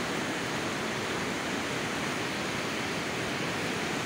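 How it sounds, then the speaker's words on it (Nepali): A swollen river rushes past in a steady, dense roar of broadband water noise, continuous and close, with no voices over it. "खोला बढेको छ"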